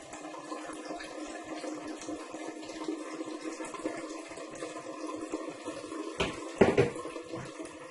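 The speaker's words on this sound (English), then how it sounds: "All you have to do is add some water." Water runs into a bowl to make fresh coconut milk, a quiet, continuous trickling and pouring, with a brief louder splash near the end.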